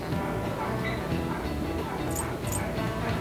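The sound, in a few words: dogs barking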